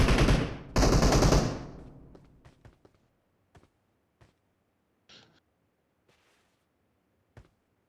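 Video game gunfire: two loud sustained automatic bursts at the start, then scattered single shots and short pops fading into quiet, with no talk.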